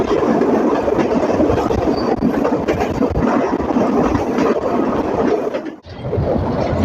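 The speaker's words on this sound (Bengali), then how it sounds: "দুর্দান্ত গতিতে ছুটে চলেছে 728 খুলনাগামী আন্তনগর রূপসা এক্সপ্রেস ট্রেন।" The Rupsha intercity express train to Khulna roars past at speed, a dense continuous rumble and rattle filling the whole stretch, briefly dipping near the end.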